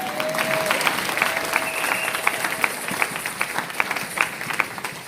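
A church congregation bursts into sustained applause and cheering to acclaim the Lord, a dense wash of clapping hands with sharper individual claps standing out, filling the room without a break.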